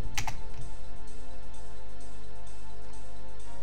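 Computer keyboard keys are pressed while the game Butterfly 660 is played, a quick cluster of clicks at the start and then sparse taps over a steady low hum.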